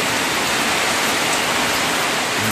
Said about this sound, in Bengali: বৃষ্টিও যেমন পড়তেছে